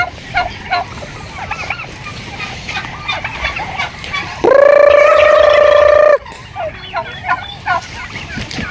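Broad breasted turkeys in a pen give a loud, close burst of gobbling lasting about two seconds. Scattered shorter bird calls come before and after it.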